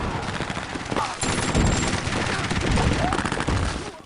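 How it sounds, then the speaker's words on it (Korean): Dense battlefield gunfire from a World War II Soviet front scene, with continuous rattling volleys and heavy bursts overlapping into a loud, unbroken din for several seconds. "전쟁터에서 울려 퍼지는 거대한 포성과 총성은 가장 듣기 싫은 소리일 텐데요"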